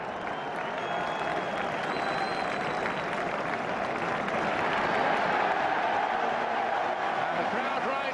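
Stadium crowd at a 1996-97 Premier League match between Arsenal and Chelsea applauding, a dense, sustained wash of clapping and crowd noise that swells slightly midway.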